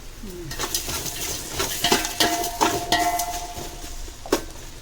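Onions frying and being stirred in a pot for mutton biryani, with a spoon scraping and clinking against the metal through a steady sizzle, several sharp clatters standing out, close and moderately loud.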